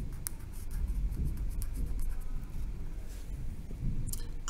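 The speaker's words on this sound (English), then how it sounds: "just on my notes, I'm going to write mountain" A pen writes on notes, giving a quiet, continuous scratching and rubbing of the nib across paper with slight strokes and pauses, heard close and alone.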